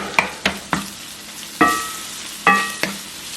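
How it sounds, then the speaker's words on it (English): Garlic sizzling in a frying pan for a stuffed pepper dish, heard as a steady hiss marked by about seven sharp clinks and scrapes of stirring. No one speaks. "So after 1 minute I'm gonna add this garlic."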